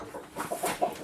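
Chickens cluck inside a coop in a short, close, fairly loud burst of rising and falling calls, with no voices.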